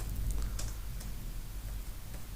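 Quick keystrokes on a computer keyboard while entering a git command, faint light clicks over a low steady hum, with no speech.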